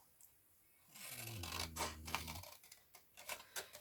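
Scissors cut through the thin wood of a small fruit crate, quiet close-up snips and scrapes coming in short, irregular bursts.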